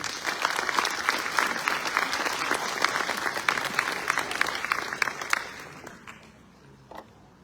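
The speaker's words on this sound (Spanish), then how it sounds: "Recibámoslo con fuerte voto de aplauso." An audience at an education conference in Peru applauds to welcome the president of the national education council, with dense, steady clapping that thins and fades out over the last two seconds.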